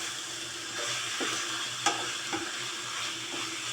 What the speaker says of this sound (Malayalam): ഇതൊന്ന് നന്നായി ഒന്ന് സോട്ട് ചെയ്യാം